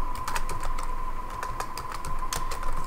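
Someone typing on a computer keyboard at a quick, uneven pace of close key clicks, with a steady faint tone in the background.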